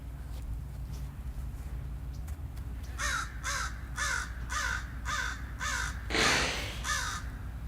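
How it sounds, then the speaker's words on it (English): A crow caws loudly in a rapid series of about seven harsh calls at a steady rhythm, close and prominent over quiet outdoor ambience. "Man, the crow's loud."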